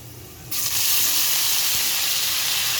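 Chopped capsicum and red and yellow bell peppers go into frying garlic for chili fish. A loud, close sizzling hiss bursts out suddenly and holds steady for about two seconds before cutting off, with no speech.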